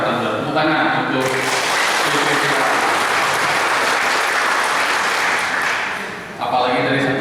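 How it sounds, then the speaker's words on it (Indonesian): Loud, dense applause from a crowd at an Indonesian Air Force family association anniversary gathering swells in and holds steady, with music audible under it at the start and end. "Tepuk tangan untuk"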